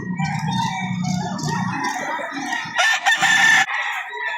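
A Golden Sweater rooster, a 14-month-old gamefowl, crows loudly and close by in a single long call, with farmyard clucking before it.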